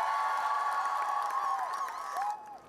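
A crowd at a climate protest march in St. John's cheers and shouts, with high, sustained voices swelling together and then trailing off toward the end.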